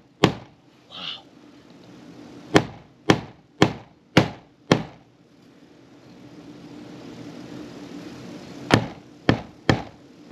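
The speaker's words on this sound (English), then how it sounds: "Don't want to hammer in all the way." Nails hammered into wood during repairs at a rental property: sharp, loud strikes in a quick burst of five, a pause, then three more, over a quiet background.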